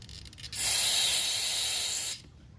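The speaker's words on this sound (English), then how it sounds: "go and verify this and blow it out with the air compressor" Compressed air from an air compressor nozzle blasts through the carburetor passages of a Honda EU2200i/EU2000i generator, a single loud, steady hiss lasting under two seconds, close up, with no talking.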